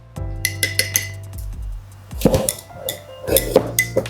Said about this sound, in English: I'm just going to mix it so the olive oil is well mixed with the garlic